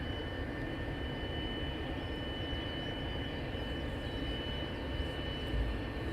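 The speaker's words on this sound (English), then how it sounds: "And then we have an EasyJet that's just getting ready for departure" An EasyJet plane at Luton Airport preparing for departure produces a steady, distant jet engine whine and broad rumble that hold evenly throughout, with no voices.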